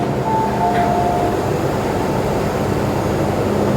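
A retro MTR train passes through Tin Hau Station, a steady low rumble of wheels and motors filling the platform with a brief high whine near the start, continuous and fairly loud throughout.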